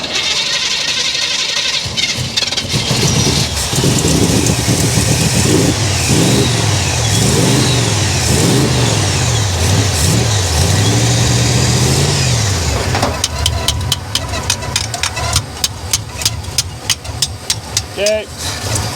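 A car engine at a car show, its float stuck, is cranked repeatedly and then revs in loud, wavering surges before settling into a rough, uneven idle. Voices talk nearby.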